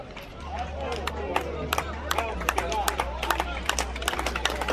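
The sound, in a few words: audience applause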